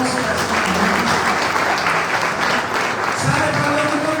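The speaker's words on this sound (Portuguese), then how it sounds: "¿Cuántos pueden dar un fuerte aplauso al Señor?" A church congregation applauds loudly and steadily at a Sunday worship service, a dense wash of clapping that fills the space from start to finish while a voice and some music sound faintly underneath.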